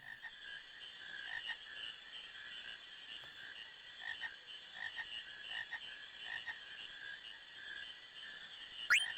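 Frogs croak in the Final Fantasy IX video game, in a run of repeated, evenly spaced ribbity calls. The croaking is moderately loud and continuous, with a brief sharp rising chirp near the end and no talk.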